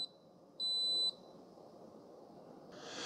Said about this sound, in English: So there's the beeps, and it says the word end